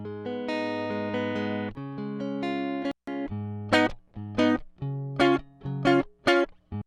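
Clean, dry electric guitar played straight into a DI in a pop part: sustained chords for about three seconds, then short, choppy rhythmic stabs, played alone and close.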